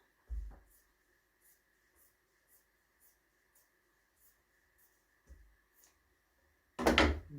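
Scissors cut pillow-cover fabric in a quiet room: a series of soft, evenly spaced snips, with a few louder thumps as the fabric or scissors are handled and one loud clatter at the end.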